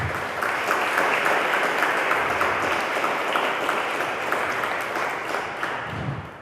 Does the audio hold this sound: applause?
yes